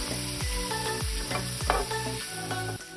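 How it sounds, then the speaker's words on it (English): Chopped onion, garlic and grated coconut roast in a pan for a Goan chana ros base. A spatula scrapes in a regular rhythm, roughly twice a second, over a constant close sizzle. "Roast this mix until it changes color and turns brown"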